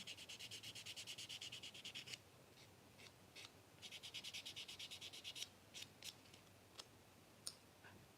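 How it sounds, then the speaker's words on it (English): Rapid rhythmic scratching strokes, bursts of quick back-and-forth rubbing then scattered single strokes, close and quiet, with no talking. "Just going to give it a little extra sanding."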